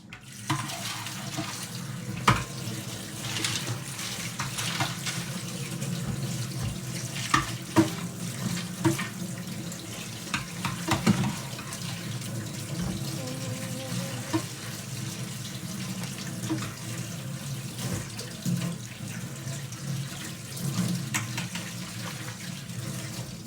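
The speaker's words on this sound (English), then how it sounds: "Now it's time to wash it off in hot water," Tap water runs steadily into a sink over frozen cabbage, peas and sweet corn being washed in hot water, a continuous splashing stream with occasional clinks and knocks of the vegetables and container, close by and with no talking.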